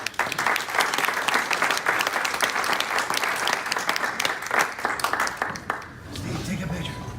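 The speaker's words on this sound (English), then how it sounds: "So we have a round of applause" Applause at a Thank-A-Thon award presentation, a room full of people clapping densely for several seconds before it thins out and stops near the end, with some voices under it.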